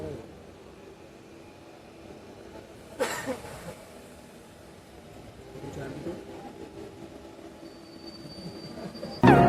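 The Dadar–Sainagar Shirdi Express rolls along at night: a low, steady rumble of railcars with wheel noise, sharp squeals and clatter bursts around three seconds and again at the end, heard from inside the train.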